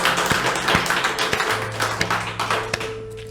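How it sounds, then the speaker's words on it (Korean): A church congregation bursts into clapping at the close of an Easter Sunday service, a dense wash of many hands with a few louder, sharper claps standing out and a steady tone humming underneath. "박수로 축복하십시다"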